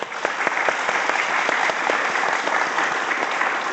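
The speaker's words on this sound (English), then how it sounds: "please join me in welcoming Neel with a big round of applause" A town hall audience at Keio University in Tokyo breaks into steady, dense applause to welcome a speaker, many hands clapping together at a strong, even level throughout.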